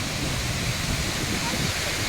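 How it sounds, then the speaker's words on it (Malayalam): A waterfall pours into a wide river near Kanjikode in Kerala, producing a dense, unbroken roar of rushing water that holds at a steady level from start to finish. "ഇതാണ് ഞാൻ പറഞ്ഞ വെള്ളച്ചാട്ടം"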